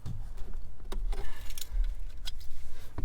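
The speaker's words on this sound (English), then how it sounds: "By removing the keys," Car keys jangle as they are pulled out of a Toyota Tundra, a bright metallic rattle in short bursts over a low steady rumble, fairly close, with no talking.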